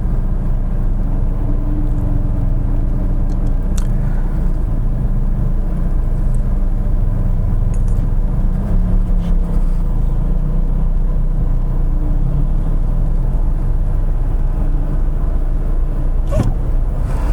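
A Renault Samsung XM3 TCe260 crossover drives in sport mode with an EDC transmission, its cabin filled with a loud, constant low engine and road rumble, with a few faint clicks and no talking.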